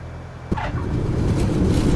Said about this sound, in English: let's take a note of the touchdown effect. We're going to touch down main gear.